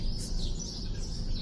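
Birds sing and chirp in the morning, with short bright calls repeating over a low background rumble in this brief outdoor moment.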